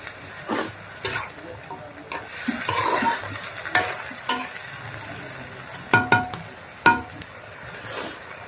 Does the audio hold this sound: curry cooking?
yes